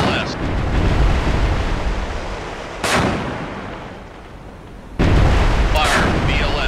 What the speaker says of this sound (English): Fire VLS.